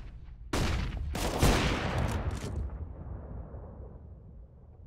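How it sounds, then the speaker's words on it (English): In CS:GO on the Mirage map, a sharp flashbang burst arrives with a flurry of gunfire, loud and sudden, then a fading reverberant tail trailing off over several seconds. "I'm throwing a flashbang."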